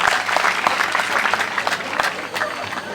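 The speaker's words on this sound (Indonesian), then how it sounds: "Tepuk tangan dulu." An audience at an alumni farewell gathering bursts into sustained applause, dense overlapping claps at close range with some crowd voices mixed in.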